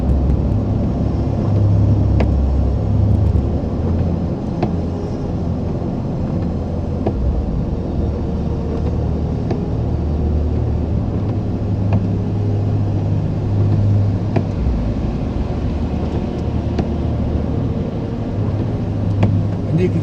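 A truck climbs a ridge on an icy road during a snowstorm, its engine a steady, close low rumble with road and wind noise throughout, with no clear voices.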